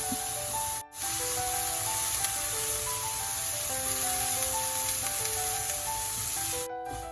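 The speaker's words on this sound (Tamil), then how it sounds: "இந்த எள்ளை நாங்கள் வறுக்கல கூட அடுப்பை எரிக்காமல் ஒரு மிதமான தீயில விட்டு கொண்டு இதை வறுக்கணும்" Sesame seeds dry-roasting in a pan over a medium flame give a steady, close hiss and rustle that runs almost without a break, with a soft melodic tune playing underneath.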